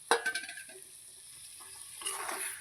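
Water poured into a hot pan of cauliflower curry with poppy-seed paste over a low gas flame: a couple of soft taps and clatters, then a rising hiss and sizzle near the end.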